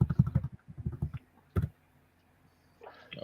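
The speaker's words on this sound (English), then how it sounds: "Who the hell's typing?" Keys clattering on a computer keyboard in fast bursts for about a second, one sharp click near the middle, then quiet with faint rustling at the end.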